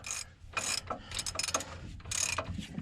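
A ratchet wrench clicks in short bursts while tightening a bolt on the wheel hub of a Dodge RAM 3500 during a wheel bearing and hub replacement, with close, quick ratcheting strokes and no talking.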